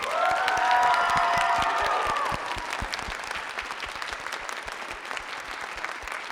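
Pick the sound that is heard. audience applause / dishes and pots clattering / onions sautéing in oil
audience applause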